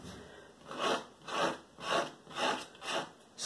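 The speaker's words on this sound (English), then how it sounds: "scrape that stuff back out with a palette knife or a fork or whatever my printmaking tools" Oil paint is scraped off gessoed paper with a palette knife in five slow, evenly spaced rasping strokes, each swelling and fading, close and fairly quiet with no voices.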